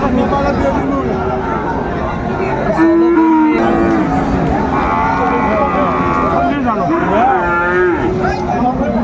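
Cattle, Friesian and crossbred bulls and calves, moo repeatedly at the crowded Raniganj livestock market, several long lowing calls near and far over a busy murmur of people talking.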